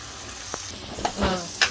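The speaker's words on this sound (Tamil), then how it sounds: "வெங்காயம் வதங்கிக்க வதங்கிக்க" Onions sautéing in a pan for prawn gravy give a steady soft sizzle, close up, with a few clinks and stirring scrapes near the end.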